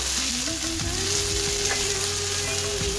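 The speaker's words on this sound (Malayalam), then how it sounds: "നന്നായിട്ട് സോട്ട് ചെയ്യണം." A loud, even sizzle of onions sautéing in hot oil, with occasional stirring and scraping sounds in the pan.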